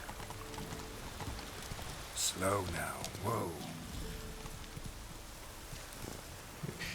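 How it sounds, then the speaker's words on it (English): Soft, steady rainfall in the game Witcher 3 patters quietly throughout, while someone speaks briefly in the middle. "The game is just so beautiful when it rains"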